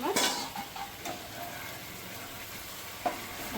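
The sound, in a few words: frying mustard-poppy spice paste for katla fish curry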